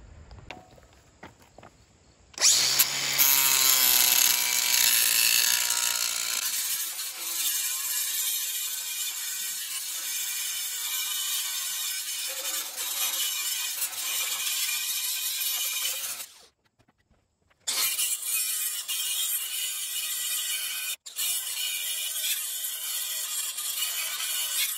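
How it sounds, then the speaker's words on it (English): An angle grinder cuts welds off a hydraulic log splitter, beginning with a brief low rumble, then a loud sustained high-pitched metal grind that runs alone with short pauses near the end. "So I'm going to try to grind my welds a little bit and see if I can pop this thing off."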